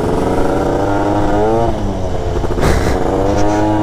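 A Hercules moped engine runs close by, buzzing steadily, then climbs in pitch as it revs up briefly near the end.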